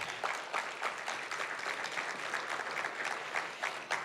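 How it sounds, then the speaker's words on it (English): An audience at a documentary series premiere applauds, a steady patter of clapping heard faintly at a distance, continuous throughout with no talk over it. "Clap it up."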